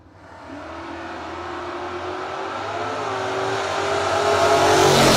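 A Chevelle drag car launches and accelerates hard at a no-box bracket drag race. The loud engine note climbs steadily in pitch and volume over several seconds.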